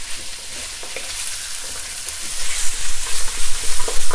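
Spare ribs stir-fry with ginger and garlic over high heat for Vietnamese spare ribs, producing a loud, dense sizzle that swells as the pieces are tossed and stirred, close up with no speech.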